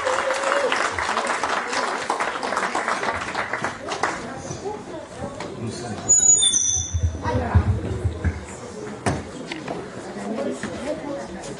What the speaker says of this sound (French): On vous applaudit très fort mesdames.